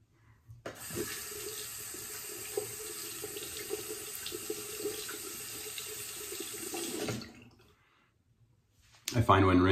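Tap water runs steadily into a sink to rinse a safety razor, a continuous splashing hiss for several seconds that cuts off, followed by a brief clatter near the end.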